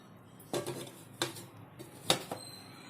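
A metal lid is set onto an idli steamer holding burger buns, giving a few close clanks and clinks of metal on metal. Three distinct knocks come over a few seconds, with no talking.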